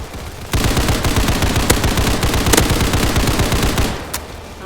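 Rapid automatic gunfire in the Hypershot shooter game, a loud sustained burst of closely spaced shots with a few sharper cracks standing out, starting abruptly after half a second and cutting off near the end.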